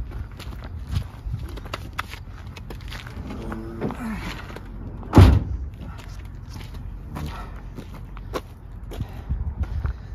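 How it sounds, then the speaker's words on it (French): A truck hood is swung shut during a pre-trip safety inspection, landing as one loud, close thud midway through, with faint clatter and background noise around it. "Je vais fermer le capot."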